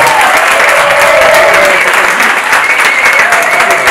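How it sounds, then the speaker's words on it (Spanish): A crowd at a school diploma ceremony gives its teachers a loud, sustained round of applause, dense clapping filling the room continuously with faint crowd murmur underneath. "También un aplauso, ¿no?, para ellos."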